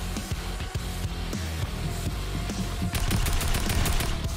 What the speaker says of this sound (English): Stop with the shooting.